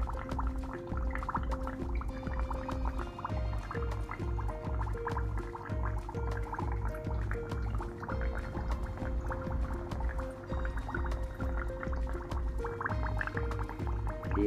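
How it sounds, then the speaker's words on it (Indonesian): A Q3 aerator pump bubbling air into water in a small container, a continuous, even stream of gurgling bubbles with a steady hum underneath, moderately close and unbroken throughout. "Di wadah kutu air pun ya keluar gelembung"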